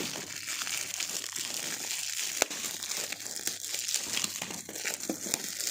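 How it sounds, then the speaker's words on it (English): Strong tape being picked at and a gift wrapping crinkled and torn open, a steady, dense rustling and crackling that runs throughout at low level, with no voice over it. "I can't open it. That's a strong tape."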